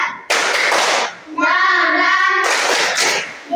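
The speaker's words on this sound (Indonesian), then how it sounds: "kita tepuk semangat dulu" A group of children claps a rhythmic spirit chant in a classroom, sharp bursts of hand claps alternating with sung, chanted voices, loud and close.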